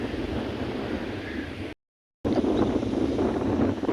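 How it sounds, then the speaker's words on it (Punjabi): Strong wind buffets the microphone over flooded river fields after heavy rain and dam water release, a loud continuous roar and rumble that cuts out briefly before resuming just as hard. "ਹਵਾ ਬਹੁਤ ਤੇਜ਼ ਵਗ ਰਹੀ ਆ"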